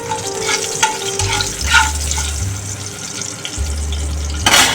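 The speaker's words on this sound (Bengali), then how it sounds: "তারপরে তেজপাতা আর আমি চিনি ফোড়ন দেবো অল্প করে।" Bay leaf and a little sugar go into hot oil in a wok for tempering, giving a moderate sizzle with a low steady hum beneath it and a brief louder burst near the end.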